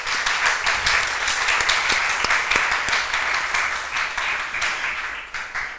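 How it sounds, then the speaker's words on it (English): Lecture hall audience gives a round of dense, steady applause at the close of a distinguished lecture, the clapping holding strong for several seconds before gradually thinning toward the end. "May I request a round of applause for sir."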